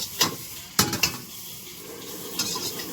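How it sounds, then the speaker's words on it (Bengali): Chow mein stir-fried with onion, cabbage, carrot and capsicum at a roadside food stall, a steady low sizzle broken by a few sharp metallic scrapes and clanks of a spatula against the pan. "এখানে পেঁয়াজ, বাঁধাকপি, গাজর, ক্যাপসিকাম দিয়ে এটাকে ফ্রাই করে নিচ্ছে হালকা"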